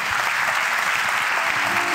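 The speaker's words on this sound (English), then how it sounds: "Give a big round of applause for yourself." A conference audience gives a steady round of applause at the close of a talk on DNA and genetics. The dense, even clapping fills the room throughout with no speech over it.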